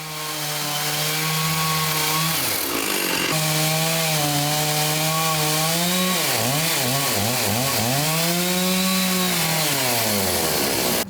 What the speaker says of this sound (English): Even with a sharp chainsaw, it wasn't easy to cut.